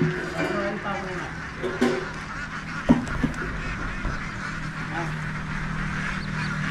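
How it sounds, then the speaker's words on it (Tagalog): Ducks being unloaded during a delivery to a stockroom give off scattered honks and quacks amid steady background noise, with a few sharper knocks near the middle. Someone talks over the birds. "Ayan yung itik, oh. Binababa, oh."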